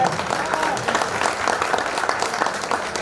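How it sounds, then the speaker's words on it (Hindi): Loud, sustained applause from a gathered audience at a community meeting, a thick, even wash of many hands clapping throughout with no pause. "जोरदार तालियों के साथ"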